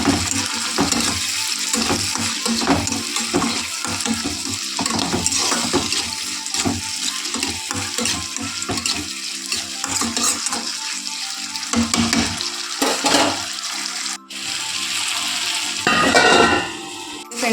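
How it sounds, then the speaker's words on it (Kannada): Tomatoes with salt and turmeric fry steadily in a pan, a continuous sizzle broken by repeated scraping stirs and clinks, with a brief splash of water near the end; no one speaks. "ಟೊಮೆಟೊ ಇಷ್ಟು ಫ್ರೈ ಆಗಿದೆಯಲ್ಲ"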